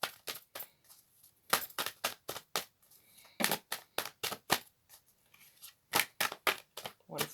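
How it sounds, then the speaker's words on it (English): Tarot cards being shuffled by hand, bursts of crisp riffling and slapping clicks in irregular clusters, close and moderately loud with short pauses between. "I'll shuffle 3 more times."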